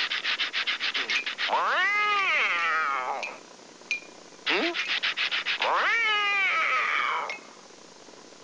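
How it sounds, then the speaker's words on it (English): Two long, wavering cat meows, each rising and falling, are each preceded by a quick burst of rapid clicking pulses, with a brief pause between them. "Blue cat. Meow."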